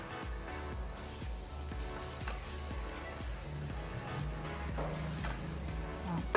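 Garlic sautés in a little oil in a pan, giving a steady, close sizzle with faint stirring scrapes throughout.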